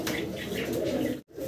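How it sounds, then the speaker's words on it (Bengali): A pair of colourful Golla pigeons cooing close by, a steady low murmuring coo running through with a brief gap near the end. "একজোড়া কালারিং গোল্লা কবুতর, অসাধারণ সুন্দর।"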